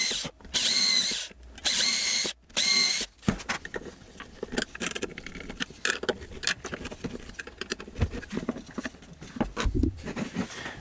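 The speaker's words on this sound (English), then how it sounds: "fortunately I have a right angle drill which can fit in here" A right-angle power drill whirs in three short bursts, drilling a pilot hole in a reclaimed desk fan, then tapping, scraping and ratcheting tool sounds follow at close range.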